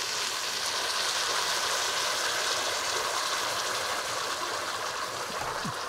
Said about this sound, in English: So let's put some of this boiling water.